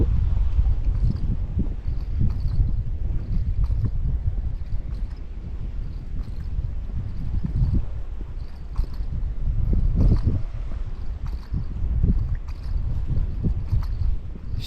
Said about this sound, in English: Still windy, as you could hear.